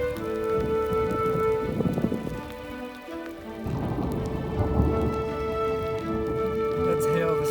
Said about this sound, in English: That's hail the size of BB pellets.